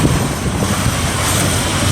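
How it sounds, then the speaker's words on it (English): A semi-truck rolls slowly over a torn stretch of road with a gap of about two inches, giving a steady, loud, broadband engine and road rumble with no talk. "This semi-truck."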